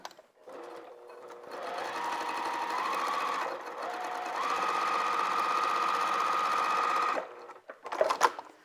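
Sewing machine stitching the bottom edge of a fabric holiday stocking, a steady close motor whir running several seconds with a brief pause and shifts in speed, ending in a few handling clicks.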